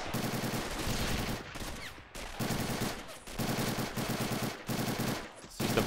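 Repeated bursts of loud automatic gunfire rattle in a Pointe du Hoc battle from a video game running the RobZ Realism Mod. The bursts are separated by short gaps, with faint voices underneath.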